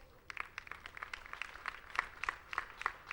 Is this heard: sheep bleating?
no